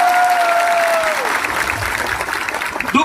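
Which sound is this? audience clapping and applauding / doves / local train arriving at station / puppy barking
audience clapping and applauding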